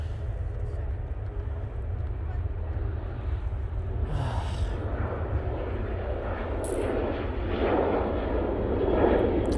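A Boeing 737 taking off at Manchester Airport, a steady, loud low jet engine roar that builds gradually toward the end with rising broadband rumble, heard alone without talk.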